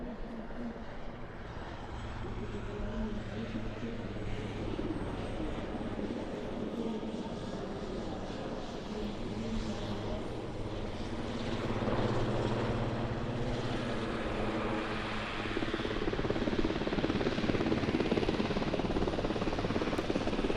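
Swiss Air Force Super Puma helicopter flying sideways past the crowd at an airshow, a steady loud rotor and engine roar that swells slightly as it passes, with faint commentary.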